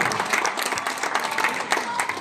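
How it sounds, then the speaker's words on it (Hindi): Audience applause at a public school's 16th anniversary celebration, honouring students and teachers: steady, dense clapping from a nearby crowd that fills the whole moment without a break. "उनके लिए भी एक बार जोरदार हम ताली चाहेंगे"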